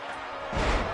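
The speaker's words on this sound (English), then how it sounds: "Blue Inferno going to the top rope." A wrestler lands an inverted 450 splash from the top rope in a wrestling video game, a single loud slamming thud on the mat arriving suddenly after a brief noisy buildup.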